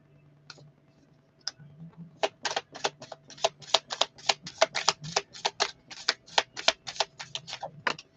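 Tarot cards are shuffled and pulled. A few scattered card flicks lead into a fast, even run of crisp riffling clicks, close and distinct, with a faint low hum underneath.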